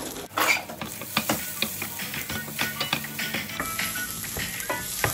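Chicken breast sautéing in a pan for homemade pizza, a steady close sizzle with repeated metallic scrapes and clinks of a utensil stirring.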